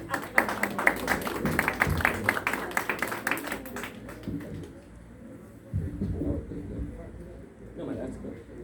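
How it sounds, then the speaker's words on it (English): Audience applause at an early childhood development talk, a burst of crowd clapping that builds over the first few seconds and then fades into scattered claps and room murmur with voices talking. "I think we should clap this man for his sweet boy shirt."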